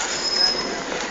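Tram wheels squealing on rails at Piccadilly in Manchester city centre, a thin, high-pitched metallic screech held over rumbling rail noise, fairly close and brief.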